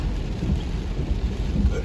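Heavy hurricane rain pours down steadily with low thunder rumbling throughout, close and loud as heard from inside a moving car, with no voices.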